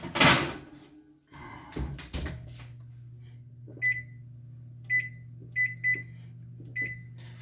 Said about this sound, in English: Let's put this in the oven.